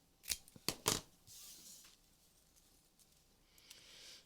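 Scissors snip off the end of a knotted string in three quick, crisp cuts close by, followed by soft rustling handling noises.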